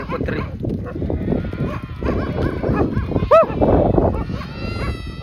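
Dogs whimper happily at a rural home, giving a few high, wavering whines, one especially sharp near the middle, amid a busy mix of animal noise and shuffling close by.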